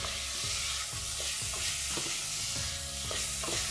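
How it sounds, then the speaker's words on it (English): Shallots and Italian sausage sauté in a pan for soup, with a loud, continuous sizzle and regular scraping stir strokes repeating about every half second, close and without voices. "I want this to saute in the pan, probably about a minute, minute and a half."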